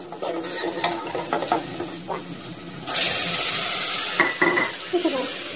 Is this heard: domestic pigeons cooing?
no